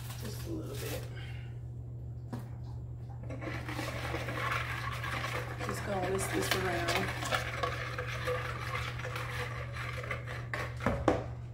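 A spatula stirs and scrapes food around a pan on a steady sizzle, rough scraping strokes repeating close by over a constant low hum, with faint talk in the background.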